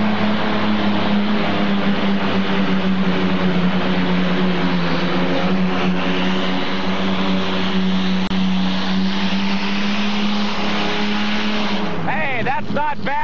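A modified tractor with an Allison engine roars loud and steady through a pulling run, its sustained heavy drone lasting throughout before a brief shift near the end, with a commentator talking over it.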